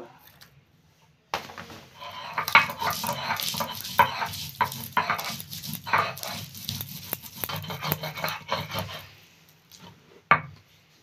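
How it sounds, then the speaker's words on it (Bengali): Garlic cloves being ground by hand on a grinding stone, a steady rasping, scraping rhythm of repeated close strokes with occasional sharper knocks, running continuously without talk. "রসুনগুলো বেটে নিব।"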